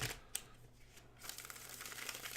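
Tarot cards being shuffled close up, a soft riffling rustle that is quiet at first and builds into a denser flutter toward the end.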